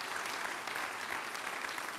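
Church congregation at a spiritual renewal service applauds as an offering of praise, a steady, moderately distant wash of many hands clapping for a couple of seconds.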